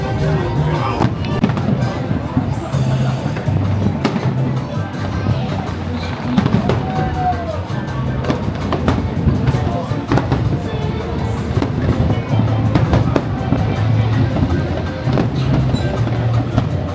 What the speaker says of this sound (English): You can see some fireworks from here